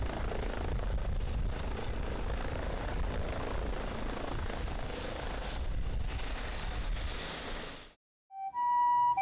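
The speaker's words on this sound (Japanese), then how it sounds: "ドクターヘリが富士五湖消防本部に着陸しました" An air ambulance helicopter landing at a fire department headquarters during a disaster drill; heavy rotor thrum and engine whine hold steady and loud for several seconds, then cut off abruptly.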